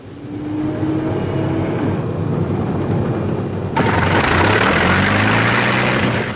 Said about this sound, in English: Finish check, starting engine.